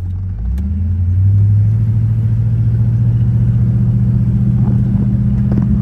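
A 1968 Buick Electra 225 convertible's engine runs steadily nearby, a loud, smooth low rumble that holds an even idle throughout with no voices over it.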